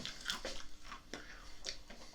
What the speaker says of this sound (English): Chickpeas, you know, can usually be a bit hard and crunchy.